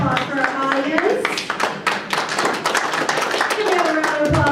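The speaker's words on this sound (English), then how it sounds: "Can we have a round of applause for our audience?" Loud, dense applause from an audience at a literary panel event rolls on steadily throughout, with a few voices rising over the clapping.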